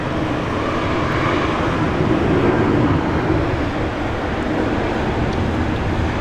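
A Boeing 737-700 airliner at Brisbane International Airport produces a steady, loud broadband jet roar that stays even throughout, with no voices over it.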